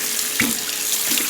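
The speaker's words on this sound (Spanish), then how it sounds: "Primero los voy a lavar, porque a veces están como pegostosos." A kitchen tap runs steadily while chili peppers are washed under it, a loud continuous hiss of water with small splashes and soft knocks as the peppers are handled.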